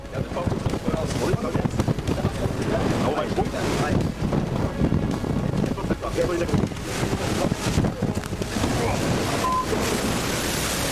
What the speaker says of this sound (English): Watch as this German warship braves these rogue waters with ease.